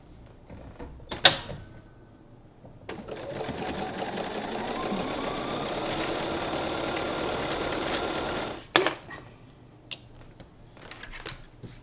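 A sewing machine stitches a quilt block in one steady run of about six seconds, close and loud. Handling clatter and thumps come before and after it, and no one speaks.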